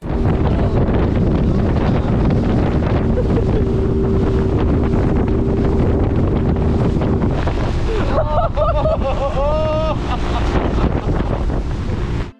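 Strong wind buffets the microphone in a steady, loud roar at Loch Dirk, Ireland, with waves and a brief whistling tone near the end.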